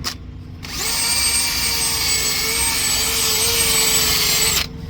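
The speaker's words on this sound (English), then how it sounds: "For this I will use brush and a drill." A power drill whines at a steady high pitch while its wire brush scrubs rust from a kingpin mounting surface on a 2021 Freightliner Cascadia truck with a gritty metal rasp, starting and stopping cleanly.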